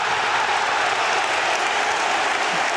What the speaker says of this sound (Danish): Og så jubles der på Brøndby Stadion.